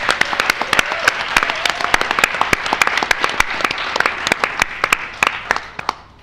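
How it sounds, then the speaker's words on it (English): A school audience gives a big round of applause for middle school competitors at a Texas quiz show semifinal. Dense, steady clapping runs throughout, close and loud, thinning slightly at the very end. "Let's have another big round of applause for all of our amazing competitors."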